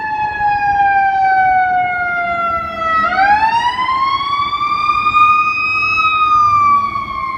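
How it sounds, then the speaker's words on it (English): An ambulance siren on Michigan Avenue in Chicago wails loud and close, a slow falling then rising tone over steady street rumble. "Here comes a ambulance."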